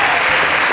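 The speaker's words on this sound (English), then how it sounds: "Another round of applause for Mr. Femi Branch" Audience applause, a dense steady wash of clapping, loud and continuous through the short moment.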